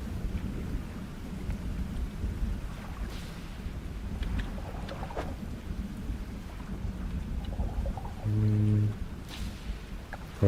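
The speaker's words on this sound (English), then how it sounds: "Lightning striking quite close by." Close lightning thunder rumbling in the fishing game DREDGE, a low, loud roll with crackling rain-like noise spread across the whole stretch, with no talk.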